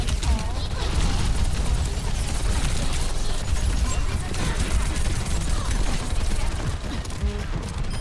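Dense, continuous gunfire and ability effects in the Overwatch video game during a Sombra match, loud and chaotic throughout with rapid overlapping shots and impacts.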